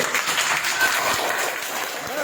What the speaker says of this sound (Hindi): तो जोरदार ताली बजाइए